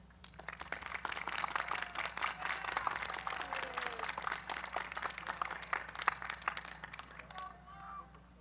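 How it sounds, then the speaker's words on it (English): Sustained applause from a large graduation crowd at a community college commencement, steady dense clapping that holds for several seconds before thinning out at the end, with faint voices mixed in. "Please join me in a round of applause for them"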